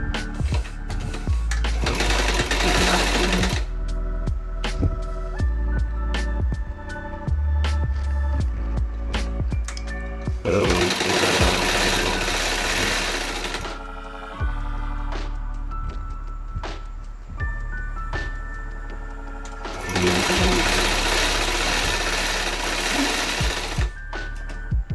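A sewing machine stitches a double-folded trouser hem in three long, loud, close bursts of rapid rhythmic whirring, separated by quieter pauses with handling clicks.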